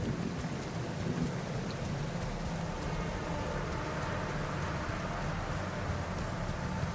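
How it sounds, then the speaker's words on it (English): Steady, dense rain with rumbling thunder pours across an alien planet in the survival game The Alters, a continuous loud downpour with no voices. "Would rain be an inconvenience other than for your visor becoming foggy?"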